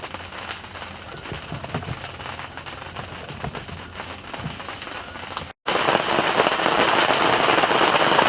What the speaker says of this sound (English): but it's pouring out